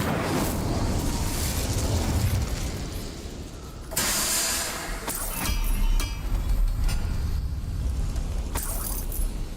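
Incendio fire spell cast in Hogwarts Legacy, a dense roaring, crackling burst of flame and magic effects that surges, drops briefly and flares again over game background sound, with no talking.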